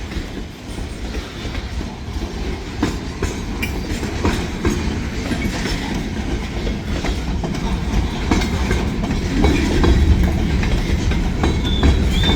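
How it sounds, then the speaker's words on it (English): A loud freight train heading south rolls past on railroad tracks, a continuous rumble with rhythmic clickety-clack of wheels over rail joints that swells slightly toward the end, with no voices. "Got a good healthy train heading south now."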